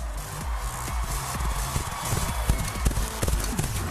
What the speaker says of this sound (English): Tight corners, straight lines. Miss Emily is riding hard.